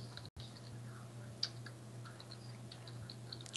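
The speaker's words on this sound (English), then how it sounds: "you're typing it" Someone types on a computer keyboard, soft uneven clicks tapping along over a steady low hum, with a couple of sharper keystrokes standing out.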